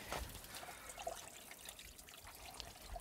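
Drinkable water trickling in a stream in Knuckles, Sri Lanka, a close, fairly quiet steady babble and dribble with no voices.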